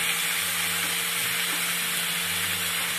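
Diced meat with garlic cooks in a frying pan, giving a steady, close sizzling hiss that runs evenly throughout, with no voices.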